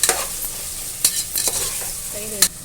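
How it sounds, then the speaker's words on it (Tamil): Onions and tomatoes sauté in a pan with rock salt, a close hissing sizzle broken by several sharp spoon scrapes and stirs, with no talking. "அப்போ தான் நல்லா வெங்காயம், தக்காளி நல்லா வதங்கும், சீக்கிரமாக வதங்கும்."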